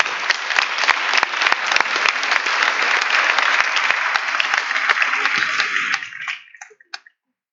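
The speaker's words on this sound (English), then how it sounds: "please give them an applause so they feel welcome" Dense, steady applause rises from an audience at a panel discussion on the Arctic, holding at a constant level for about six seconds before thinning into a few last claps.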